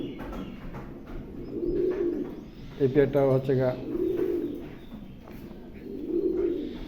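A pair of black Mundian pigeons coo in slow, recurring throaty swells, close and moderately loud, while someone talks over them in between.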